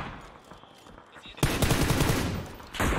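Gunfire in a multiplayer shooter game breaks out suddenly as a dense, rapid burst of shots, then cuts off briefly and resumes; quieter game ambience comes before it.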